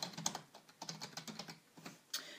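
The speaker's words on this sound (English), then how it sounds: "So if I type in..." Brisk typing on a computer keyboard, a quick irregular run of close, light key clicks with short pauses and one sharper tap near the end, no voices.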